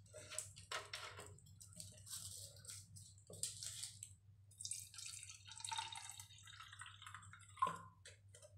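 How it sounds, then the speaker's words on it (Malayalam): Vinegar poured into a homemade experiment mixture, a soft liquid trickle with scattered drips and splashes running through the whole stretch over a low steady hum, no talking. "അതിനുശേഷം നമുക്ക് ഇതിലേക്ക് വിനാഗിരി ആഡ് ചെയ്യാം."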